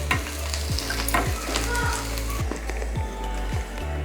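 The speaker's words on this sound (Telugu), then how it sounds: "వేగిపోయినాయి, ఈ మాత్రం వేగితే చాలు మనకు." Spices fry in oil in a pan for an egg salan (egg masala), a continuous close sizzle with repeated stirring scrapes every half second or so, over a low steady hum.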